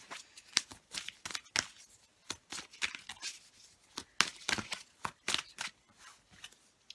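Tarot cards being shuffled for a reading: a quick run of crisp, papery riffling bursts with short pauses between handfuls, close and clear, with no voices.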